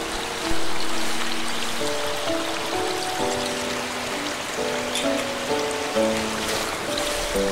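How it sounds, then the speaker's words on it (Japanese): A gas camping burner heats water for coffee outdoors in a valley, giving a steady, fairly loud broadband hiss with faint tonal sounds over it. "でガスでねお湯を沸かします。"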